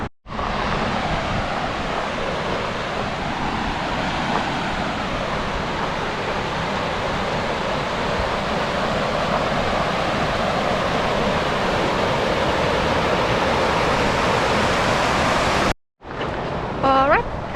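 The Falls of Balgy in Torridon, Scotland roar as a loud, steady rush of water close by. The sound cuts off abruptly near the end and returns briefly with a faint voice.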